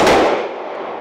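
A single sharp gunshot from a Smith & Wesson 1854 lever action rifle, loud and close, with a quick decaying echo fading over about a second.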